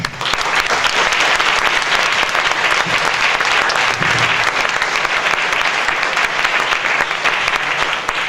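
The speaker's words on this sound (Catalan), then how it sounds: "fort aplaudiment per a Pere!" Loud, sustained applause from an audience honouring the sound technician at the mixing desk during a live stage event, a dense steady clatter of many hands with no break, near and filling the room.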